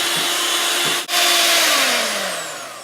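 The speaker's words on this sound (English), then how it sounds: "sugar is nicely whipped inside, and we no longer need our mixer" An electric mixer whips ten eggs with sugar, a loud steady motor whine that dips briefly and then slowly falls in pitch as it winds down.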